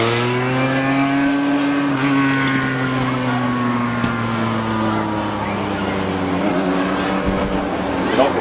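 Legends race cars in a heat race at Midvale Speedway, a loud, steady roar of engines with rising and falling revs and cars sweeping past, a sharp knock partway through, and no break in the sound.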